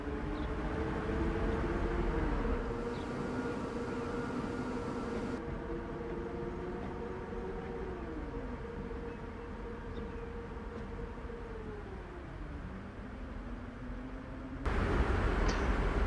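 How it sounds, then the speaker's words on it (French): Trams from the Vienna Fever mod run through a depot in Transport Fever 2, giving a steady hum with gliding, pitch-shifting whines as the cars move, ending in a sudden louder burst of noise. "Et les rames commencent leur travail."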